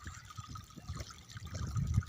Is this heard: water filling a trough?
yes